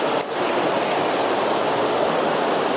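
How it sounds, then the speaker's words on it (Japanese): Dense, continuous hiss of heavy rain pouring down, loud and close, with no voices or breaks. "土砂降りの豪雨ですよ。"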